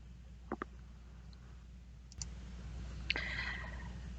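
Two or three sharp, quiet mouse clicks at irregular moments while working in design software, with faint desk handling noise over a low hum.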